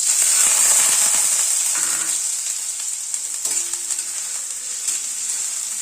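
Boiled potato pieces frying in hot mustard oil in a wok, a loud crackling sizzle that settles into a steadier hiss, with a few stirring scrapes and taps, close up and without speech.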